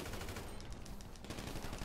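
A short, quiet burst of rapid automatic gunshots in GTA Online rattles without a break for about two seconds.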